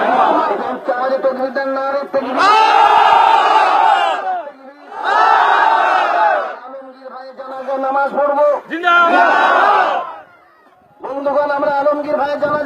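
A large crowd roars takbir (Allahu Akbar) in unison, several loud, drawn-out chanted bursts separated by brief pauses, near and powerful.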